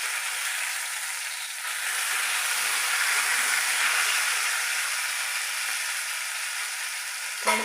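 Fish coated in masala fries in a pan, a loud, continuous sizzling hiss that swells slightly midway and carries on steadily, ending with a small clatter.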